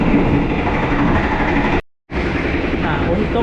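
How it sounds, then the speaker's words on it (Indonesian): Sawunggalih passenger train running in Indonesia, heard from inside the economy coach as a dense, steady rumble of wheels and carriage noise, cut off by a brief silent gap partway through before resuming. "Untuk kereta Sawung Gali ini ya"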